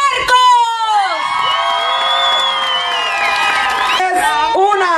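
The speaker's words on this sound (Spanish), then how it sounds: "¡Un aplauso para Marcos!" A crowd at a children's talent show in Sacramento cheers and whoops loudly, with high children's shouts and scattered clapping. A few sharp bursts stand out near the start and toward the end, and a voice rises above the noise.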